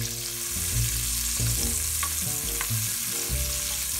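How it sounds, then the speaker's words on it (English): Asparagus spears in an oiled pan give a steady frying sizzle, layered with low humming tones and occasional utensil taps, continuous and close with no voices. "Here's the asparagus going in."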